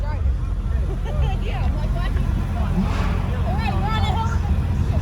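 A McLaren supercar rolls in at a car gathering, its low engine rumble running under a bed of crowd chatter and nearby voices.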